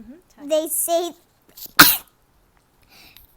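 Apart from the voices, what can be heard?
sneeze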